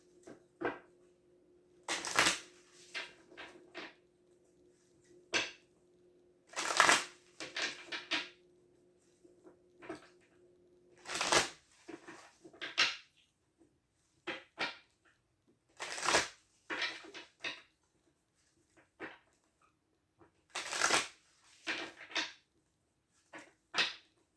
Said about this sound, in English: One more shuffle and we're going to cut them.